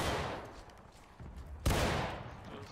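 A musket volley fired by a line of soldiers in an American Civil War line-battle game at Bloody Lane, a loud ragged crack of many shots at once midway through, following rumbling distant gunfire with faint voices.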